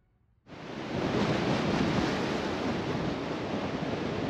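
Steady roaring wind buffets the microphone after a brief quiet start, a loud continuous broadband rush with no talking.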